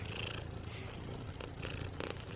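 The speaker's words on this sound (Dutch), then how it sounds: "Lekker knorren." A cat purrs softly and close by, a quiet, continuous rumbling with gentle rhythmic pulses.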